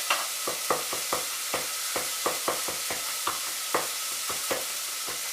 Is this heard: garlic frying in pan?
yes